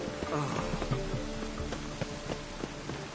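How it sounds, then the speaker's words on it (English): Steady rain patters on surfaces with a dense hiss, broken by occasional louder drips, continuous and close, in the city of Novigrad in The Witcher 3. "Rain makes this city even more dreary."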